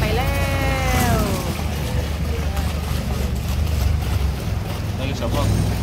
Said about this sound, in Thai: มีเรือมาอีกลำนี่สวนทางการไปแล้ว